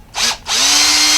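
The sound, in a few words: power drill drilling through plastic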